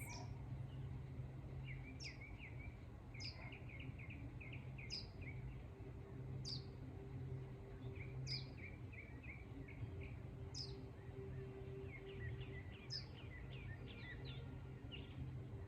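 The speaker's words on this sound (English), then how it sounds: "Noticing the birds." Outdoors in the morning, several birds chirp and call in short repeated bursts, the high notes returning every second or two over a faint, steady background hum, with no talking.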